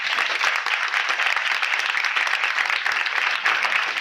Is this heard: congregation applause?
yes